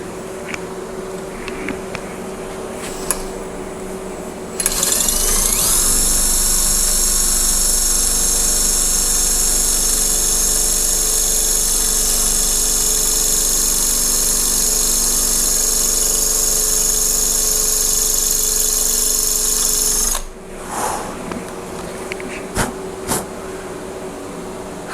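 A power drill with a titanium twist drill bit runs loud and steady for about fifteen seconds, a sustained high whine that starts and stops abruptly; no one talks.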